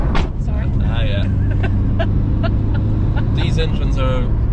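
A Mitsubishi Evo 6 four-cylinder engine drones loudly and steadily, with its engine note held under people talking nearby throughout.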